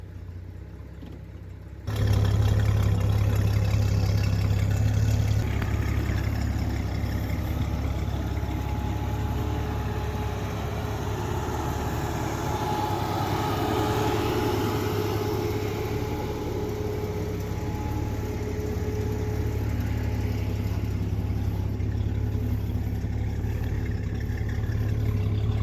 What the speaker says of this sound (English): You can hear the fan running.